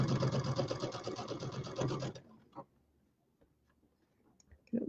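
Domestic sewing machine stitching quilt pieces, a fast rhythmic mechanical chatter running steadily for about two seconds and then stopping, followed by quiet handling clicks and rustles.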